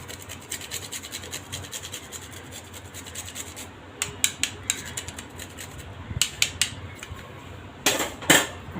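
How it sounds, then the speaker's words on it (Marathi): Nutmeg rubbed against a metal grater for sweet karanji filling, a steady run of close scraping strokes that grow sharper and louder toward the end, with no talking. "वेलची पावडर, जायफळ किसून टाकते, त्याच्याने छान सुगंध येतो।"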